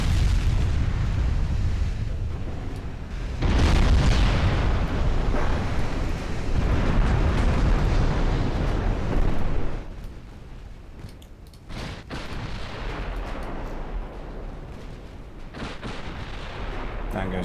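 Heavy 15-inch naval gunfire in a warship battle game, deep booming blasts that roll into a sustained roar, loud and close, with a voice talking over parts of it.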